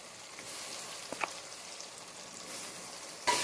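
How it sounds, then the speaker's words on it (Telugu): Tomato and ginger-coriander paste fries in a pan for a home-made bagara rice, a steady soft sizzle with a few faint pops and a louder hiss at the very end, with no voices. "ఇవన్నింటినీ బాగా ఫ్రై చేసుకోవాలి."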